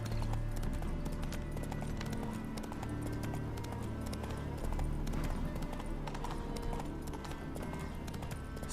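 Horse hooves clip-clopping steadily in the Witcher 3 Hearts of Stone video game, a continuous trotting rhythm mixed into dense game ambience and background music, with no voices.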